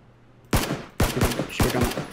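Three loud, sharp gunshots ring out in PUBG at roughly half-second intervals, each punchy blast trailing off with a short echo, with no voices over them.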